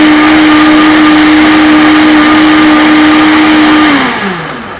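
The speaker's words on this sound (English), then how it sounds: "Hit the blender." A blender runs steadily at high speed, mixing protein pancake batter with egg whites and blueberries, a loud continuous motor whine that winds down and stops near the end.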